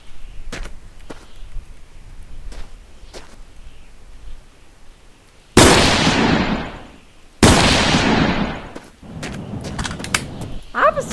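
In The Long Drive video game, two loud, sharp gunshot blasts ring out a couple of seconds apart with a lingering decay, set among a few fainter clicks and knocks.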